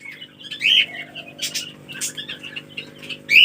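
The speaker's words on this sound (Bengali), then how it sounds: "জাভা পাখিগুলোকে খাবার দেবো লাভবার্ডগুলোকে দেবো আর বাজরিগার পাখিগুলোকেও খাবার দেবো" Java sparrows, lovebirds and budgerigars in a winter aviary lined with jute sacking and straw give two sharp, loud chirps near the start and end, with softer scattered calls, light wing flutters and a steady low hum between.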